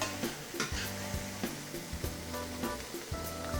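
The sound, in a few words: seasonings toasting with peppers and onions in a pan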